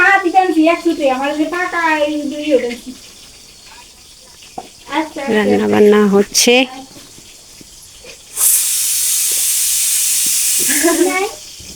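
Chorchori, a mixed vegetable curry with taro, cooks in a pan on a home stove. A steady sizzling hiss rises midway and lasts a few seconds, while people talk loudly before and around it.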